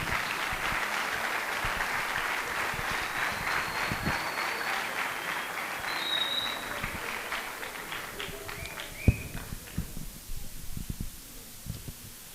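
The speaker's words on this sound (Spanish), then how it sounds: "Un fuerte aplauso para él." A seated audience at a round-table event on values in sport gives a round of applause for a guest, a dense clapping texture that thins and fades toward the end, with some faint voices mixed in.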